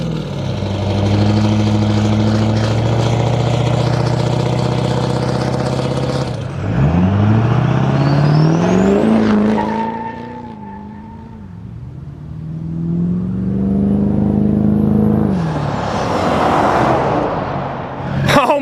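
A modified diesel long bed pickup truck engine revs loudly up close, climbing and falling through several strong revs with a deep rumble between pulls.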